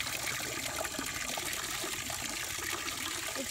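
Water from a hose runs hard into a pigs' trough on a Berkshire breeding farm, a loud, steady gushing and splashing rush that holds unbroken for a few seconds.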